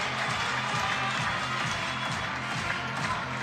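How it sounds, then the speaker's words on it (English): Crowd noise at a lead climbing semi-final in Prague, a dense roar of cheering and shouting that fills the hall steadily throughout, with no single voice standing out. "Oh, listen to the crowd"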